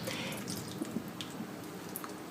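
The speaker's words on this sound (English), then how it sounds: "now once the gyoza is in the fry pan, I'm going to add 3 tablespoons of water" Three tablespoons of water poured into a fry pan holding vegan gyoza, giving a brief, soft hiss and sizzle with faint drips throughout.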